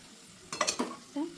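Onion frying in a pan while being stirred, with a few quick scraping strokes and a light sizzle, close and moderately loud, then a short clink at the end.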